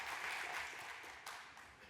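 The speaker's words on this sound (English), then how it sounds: "You can clap." An audience at a Google I/O 2019 developer conference session applauds, a faint, distant, steady patter of many hands clapping that slowly tapers off.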